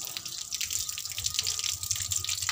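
Running tap water splashing steadily as a child washes hands and feet under an outdoor faucet; a continuous bright hiss and spatter sits close, with voices talking faintly underneath.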